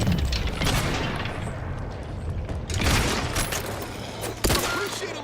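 Combat in the video game The Outer Worlds 2 rumbles with a grenade blast and booms amid rattling gunfire, dense and loud throughout, with a sharp thump near the end.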